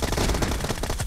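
Rapid video game gunfire crackles in a dense, continuous burst of close, loud shots with no pauses.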